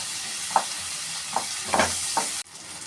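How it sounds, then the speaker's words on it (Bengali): Onions frying in a pan give a steady close sizzle, broken by four scraping stirs spaced about half a second to a second apart, before the sizzle cuts off abruptly near the end. "পেঁয়াজ দিয়ে দেবো, পেঁয়াজটা একটু ভেজে নেব"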